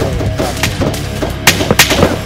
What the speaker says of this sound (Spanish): esos disparos vienen de, del este